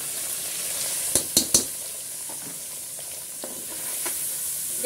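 Ginger, garlic and onion fry in oil in a pan, a soft steady sizzle with a few sharp clicks of the stirring spoon against the pan.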